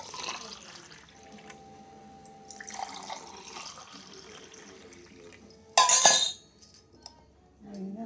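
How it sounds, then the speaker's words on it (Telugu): Lemon juice is squeezed into two glasses of water for a salted summer drink, with soft drips and liquid trickles, a light clink of glass, and a sharp splash or pour burst near the end. "నిమ్మకాయ రసం పిండానండి."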